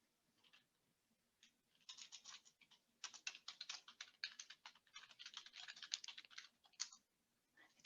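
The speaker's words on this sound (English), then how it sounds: "It's hard to multitask, typing and talking." Rapid keystrokes clatter on a computer keyboard in quick uneven bursts, fairly faint and close, with short pauses between runs of typing.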